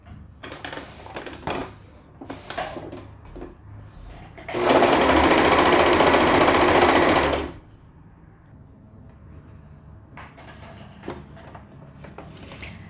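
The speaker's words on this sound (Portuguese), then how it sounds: "Já acabei de fechar as laterais" Sewing machine stitching the side seams of knit pajamas, a loud dense whirring burst of nearly three seconds in the middle, framed by quiet handling rustles and taps of fabric before and after.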